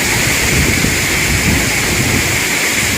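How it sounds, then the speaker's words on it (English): Heavy rain falls steadily across a forested area in Singapore near apartment blocks, a loud, dense, unbroken hiss that holds constant throughout with no voices. "the rain is quite heavy"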